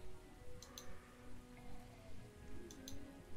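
Steady rain pattering in the video game Gibbous, a soft continuous hiss that stays quiet and even throughout, with a few faint high ticks from drops.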